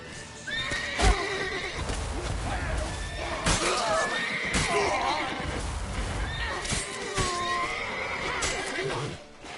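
A horse in Witcher 3 neighs and whinnies loudly several times, with clip-clopping hooves, excited shouting and a busy battle-like din around it throughout.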